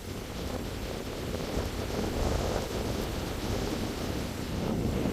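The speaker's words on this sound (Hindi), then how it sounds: "देखो यहाँ तो बहुत ही तेज हवा चल रही है अभी।" Strong wind blows hard across a wheat field, a loud, continuous roaring rush with gusting swells and heavy microphone buffeting throughout, with no voices.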